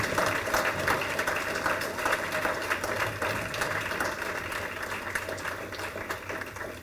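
Audience at an award banquet applauding student scholars who stand to be recognized: a dense, steady wash of many hands clapping, sustained and even throughout with no talk over it.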